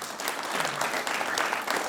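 A crowd applauds donors of chess boards at a chess board distribution event at Valigonda ZPHS school, Bhongiri district. Dense, steady clapping lasts the whole brief moment.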